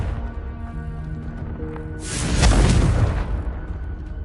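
A Confringo explosive spell blast in Hogwarts Legacy, a sudden loud roaring burst that swells for about a second and a half and then fades, over a low game background.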